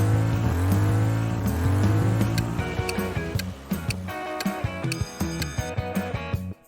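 A Ferrari F355 with a 3.5-liter V8 revs high and loud, then the pitch sweeps down and falls into sharp, rhythmic ticking pops before cutting off.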